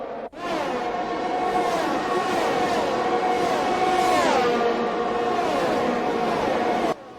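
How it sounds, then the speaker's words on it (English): Formula 1 race car engine in the racing video game F1 2021, a loud continuous high-pitched whine with rising and falling pitch sweeps through gear changes, heard alone and cutting off abruptly at the end. "each engine has a well-polished sound"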